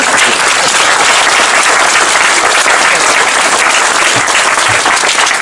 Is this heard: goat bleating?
no